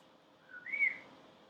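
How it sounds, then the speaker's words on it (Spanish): Whistled syllables of Mazatec whistled speech: a single soft, short rising whistle that swells and fades within about a second, heard alone against a low background hiss. "Los mazatecos tienen apodos en silbido, nombres, traducción de nombres en silbido"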